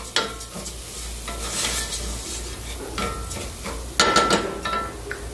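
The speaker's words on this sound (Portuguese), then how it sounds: "Deixa eu fritar mais um pouquinho." Food fries in a pan on a home stove with a continuous sizzle. A utensil stirs and scrapes against the pan, and a couple of sharper clanks stand out.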